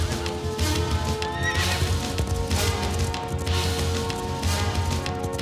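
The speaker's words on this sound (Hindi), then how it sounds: "नक्शे की रक्षा के लिए मैं अपने घोड़े पर सवार होकर निकल गया" A horse galloping through a forest at speed, with rapid hoofbeats throughout and a sharp shrill neigh rising near the start, all loud and close under a busy dramatic film soundtrack.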